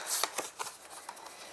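Tarot cards are shuffled close by in a few quick, papery riffling bursts that soften and thin out toward the end.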